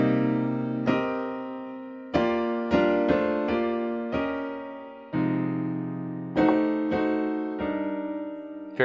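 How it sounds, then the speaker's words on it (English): Drop 2 voiced chords on solo piano, a slow sequence of struck chords that each sustain and fade before the next, giving a sweet jazz sound, close with no voices. "So here's the sound of drop 2."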